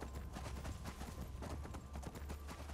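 Horse hooves clip-clop in a quick, steady rhythm while riding through Skyrim Special Edition, a continuous trotting patter at moderate volume with game ambience behind it.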